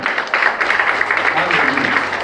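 Congregation in a Spanish-language church service clapping together, a dense burst of applause with voices mixed in, close and fairly loud for the whole short stretch.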